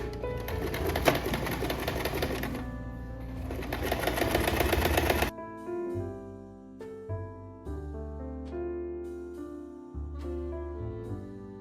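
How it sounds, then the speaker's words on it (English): A sewing machine stitching an invisible zipper runs in a fast, steady, loud mechanical rattle, then stops and gives way to a quieter stretch of low tonal sounds and clicks. "match both of the sides, and start sewing towards the bottom"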